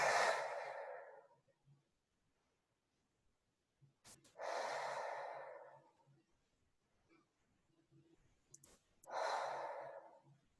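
A group doing a breathing exercise during meditation: three long, audible exhales or sighs spaced a few seconds apart, each fading out, with quiet pauses and faint breaths between.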